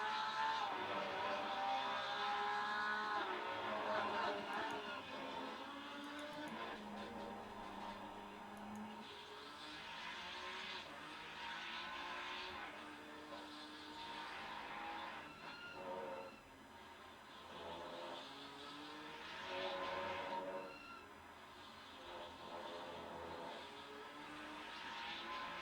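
Race car engines, a Porsche among them, roar continuously in a sim racing game at Valencia, a loud layered drone that keeps shifting pitch as the cars accelerate and brake with no one speaking.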